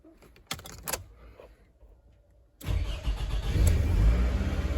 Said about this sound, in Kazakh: Көлік қызды